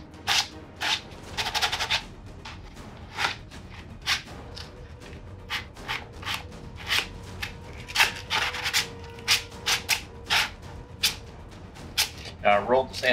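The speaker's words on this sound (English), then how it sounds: "I rolled the sandpaper up on its edge to get kind of a sharper edge, and I'm creating specific scuffs" Sandpaper rolled on its edge scuffs leather for a post-apocalyptic costume, making short, scattered rubbing strokes close to the microphone, with a few sharper scrapes in between.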